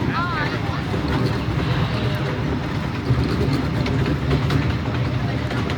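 The Pioneer train ride at Knoebels Amusement Park produces a steady, loud rumble of rolling wheels and motion. A brief high squeal is heard early, and wind buffets the microphone throughout.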